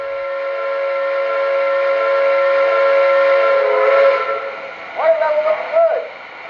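An MTH model train steam whistle, sounded from a DCS remote, gives one long sustained chord with a faint hiss. Two short toots follow at the end.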